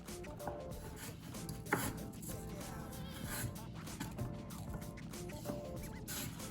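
Knife slicing apples for a homemade apple pie: soft, steady chopping and rubbing strokes on a board at close range, quiet and fairly even throughout, with one sharper knock near the middle.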